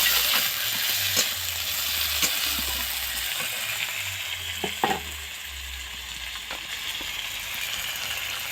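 Tomatoes and onions frying together in a pan, a steady close sizzle with occasional stirring scrapes and clinks of a utensil, no talk.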